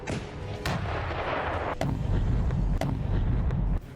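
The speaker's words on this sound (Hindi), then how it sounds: "ये T-30 तोप 122 मिलीमीटर के गोले फायर करती है।" Ukrainian army T-30 cannon firing 122 mm shells, heavy booming blasts and sharp reports one after another over a continuous low rumble, loud and close.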